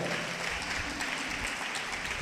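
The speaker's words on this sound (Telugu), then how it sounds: "గట్టిగా చప్పట్లు కొట్టండి" A church audience claps loudly and steadily at a sermon gathering, a dense continuous wash of applause lasting throughout without speech.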